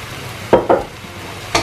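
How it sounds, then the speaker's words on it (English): Pre-cooked beef is stirred into a pot of Nigerian efo riro vegetable soup, two quick close scrapes followed by a third after a short pause. "Just stir that all together."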